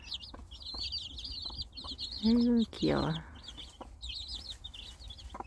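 Small chicks peep with high, rapid chirping throughout while pecking at grass outdoors, joined mid-way by a couple of louder clucks from a hen; someone speaks softly over them.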